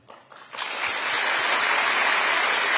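A room full of public officials at a lecture by the Korean president breaks into applause, swelling quickly from quiet into loud, steady clapping that holds to the end.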